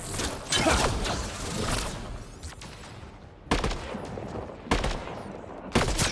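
Bursts of gunfire in a Mass Effect Andromeda firefight against Roekaar enemies, sharp volleys separated by brief lulls, with mechanical clicks and whooshes and no speech.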